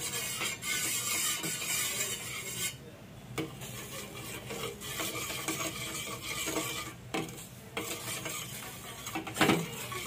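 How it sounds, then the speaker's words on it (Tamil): A spoon scrapes and stirs a turmeric mixture in a pan on a stove, with repeated rasping strokes against the metal and brief pauses, close and continuous without talk. "அடுப்பில் வச்சு இப்படியே கிண்டிக்கிட்டே இருக்கணும்."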